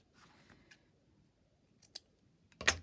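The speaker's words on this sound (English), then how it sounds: "I'm just going to cut a little piece" Scissors cutting a small piece of old lace, a few faint snips then one sharper close cut at the end, in a quiet room.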